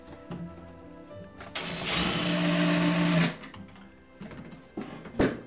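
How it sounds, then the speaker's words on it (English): A power drill bores into a fitting at close range, one steady whirring burst of about two seconds that rises sharply, holds, then cuts off, with quiet handling noises before and after. "I'll drill the bottom one first"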